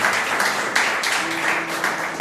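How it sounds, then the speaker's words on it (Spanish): A church congregation applauds during a worship service, a steady moderate roll of many hands clapping with slight rhythmic pulses and a faint voice or tone underneath. "denle ese aplauso al que vive"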